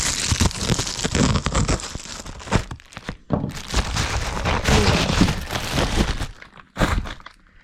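Loud, close crinkling and rustling of plastic as a bag is handled, with irregular crackles and a few brief pauses.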